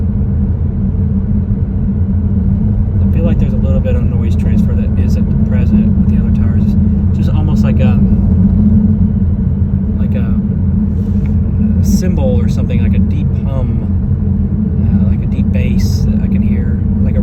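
Steady, loud low rumble of tire and road noise inside a Tesla Plaid cruising at 60 to 65 mph, a constant droning hum with a faint resonance and quiet voices underneath.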